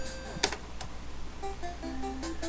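Keys clicking on a computer keyboard during a PC typing game exercise, a few sparse taps mixed with short electronic beeps and tones from the game over a steady low hum.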